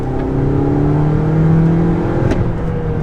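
A 2022 Toyota Corolla Cross XLE accelerates, its engine note rising as it pulls, loud and close from inside the cabin, with a brief whooshing tick near the end and no talk.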